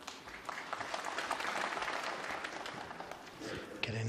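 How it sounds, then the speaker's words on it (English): Audience applause at a snooker final between Mark Selby and Ding Junhui, 2016 International Championship: a dense, steady wash of clapping that fills the whole stretch, then fades slightly near the end. "Getting applause, even for easy shots."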